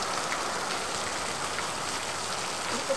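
Sudden heavy rain pours down in a dense, steady hiss of drops on surfaces, close and continuous.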